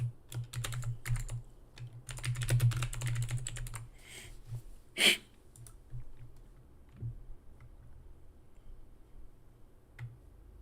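Typing on a computer keyboard with a microphone in the way: rapid irregular key clicks in bursts, close and clear, with a sharp louder tap partway through, then sparser keystrokes.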